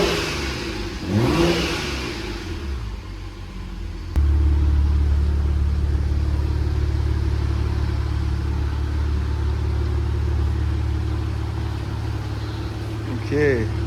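A BMW E82 135i with a newly fitted limited-slip differential runs at a steady, loud, deep rumble after a short rev, with someone talking over the opening seconds.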